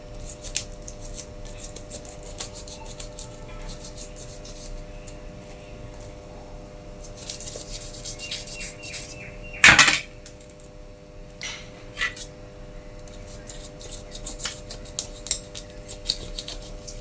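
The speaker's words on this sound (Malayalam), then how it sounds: "എന്നിട്ട് നമുക്ക് തലഭാഗം കട്ട് ചെയ്യാം" A snakehead fish having its head cut off while being prepared for a Kerala-style fry, heard as a few sharp metallic cutting clicks and one loud snap near the middle over a quiet kitchen hum.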